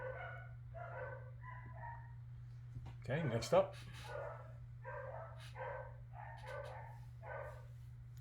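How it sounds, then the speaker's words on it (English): Several dogs bark in repeated bursts at a moderate distance, with a short yip and whimper partway through, under a person speaking briefly and a steady low background hum. "Sorry about the dogs barking."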